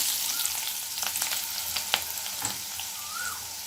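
Fresh coriander hits hot oil for vada pav, giving a steady, soft crackling sizzle with small pops throughout and no voices.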